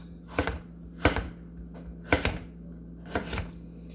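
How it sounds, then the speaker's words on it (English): A knife slicing ingredients into strips on a cutting board for homemade chili, four distinct chopping strokes spaced roughly a second apart over a low background hum. "I'm just going to cut them into strips."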